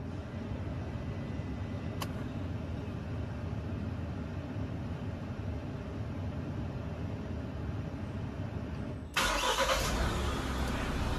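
A Mahindra Thar's mHawk diesel engine cranks and fires near the end after a long stretch of steady low rumble, jumping to a louder, rough idle.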